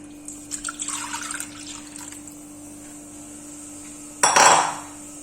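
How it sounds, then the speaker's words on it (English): Muscoth halwa, a Tirunelveli sweet, is being cooked in a pan. Close metal scraping and clinks from the stirring spoon come first, then a sudden burst of liquid splashing as coconut milk is poured in. "While you're stirring it, let us pour the 4 cups of coconut milk that we had kept aside earlier."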